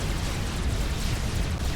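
Azar cannon firing in the Supreme Commander strategy game, a dense, continuous roaring blast with deep rumbling low end, loud and sustained throughout without talk.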